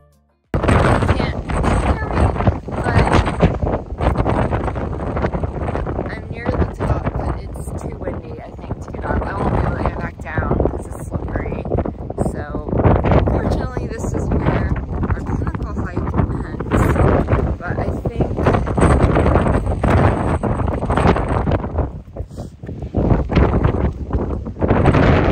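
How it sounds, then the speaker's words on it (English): Strong wind roars and buffets the microphone on a hilltop in Grampians National Park, a loud, continuous rumbling blast with gusty surges lasting the whole stretch. "you'll see a clip here shortly, and it's really windy, so sound warning,"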